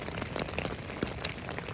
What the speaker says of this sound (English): The noise you hear on my tent is rain.